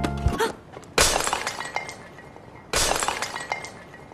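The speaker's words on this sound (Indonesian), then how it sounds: "Alhasil benda yang diberikan Mitsuashi pun pecah" A glass gift object shatters on impact in two loud, crashing breaks, each followed by tinkling fragments, heard alone without talk.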